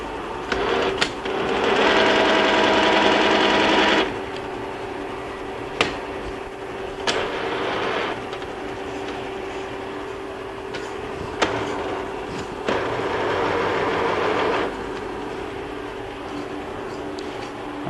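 A milling machine cuts steel for a pair of grinder tool rests, a buzzing, rattling cut that comes in several bursts with sharp clicks and a steady machine hum between them.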